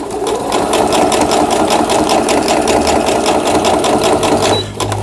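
A Riccar sewing machine stitching a zigzag, a loud, steady mechanical whir with fast regular needle clatter running continuously before stopping abruptly near the end, close up.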